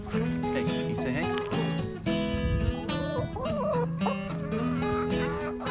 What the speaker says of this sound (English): check out the chickens here